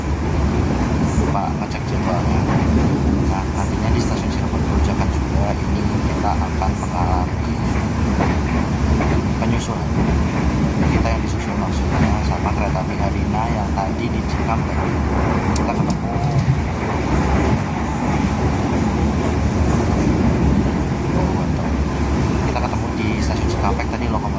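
Continuous rumbling of a passenger train rolling along the rails, heard from inside, a dense steady roar with faint rhythmic clatter throughout.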